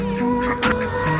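A chicken on a family farm gives short clucks and a brief squawk against a busy outdoor backdrop, heard over a low steady hum.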